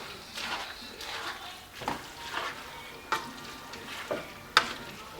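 Pancit bihon rice noodles and vegetables are stirred in a pan with a utensil, giving a series of soft scraping and rustling strokes, a few sharp clinks against the pan, and a low sizzle underneath.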